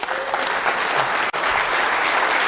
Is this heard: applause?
yes